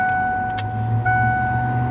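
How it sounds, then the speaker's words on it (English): A high-pressure fuel pump on a 1988 Ford F250 runs steadily with a low, continuous hum and a thin, whining tone that shifts slightly partway through, close by and with no talking. "We can hear the pump."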